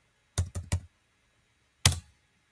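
Keyboard typing while entering values in AutoCAD: three quick close key taps in a row, a pause, then one firmer final keystroke, crisp and near in a quiet room.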